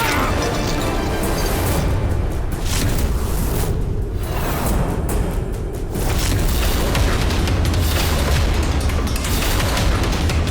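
Cannon fire from a historical Rajasthani battle drama booms in dense, overlapping blasts and crashes, forming a loud, nearly unbroken barrage with brief dips between volleys.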